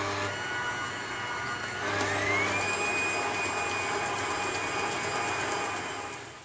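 Electric hand mixer whipping 250 ml of fresh cream for a birthday cake, a steady close motor whir that rises in pitch after a couple of seconds and holds, then tapers slightly at the end.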